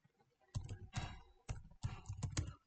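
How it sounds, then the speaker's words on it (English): Short irregular bursts of clicking keys on a computer keyboard, a few quick clusters of taps, quiet and close. "when you type google.com"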